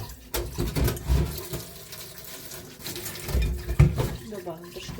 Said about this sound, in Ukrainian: Включаємо нашу водичку